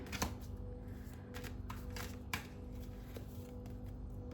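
Tarot cards are pulled and shuffled close by, producing soft riffling and flicking sounds in short bursts against a quiet room.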